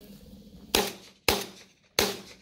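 Three sharp shotgun blasts ring out at skeet targets, evenly spaced about half a second apart, each a loud crack with a short decaying tail, fairly close.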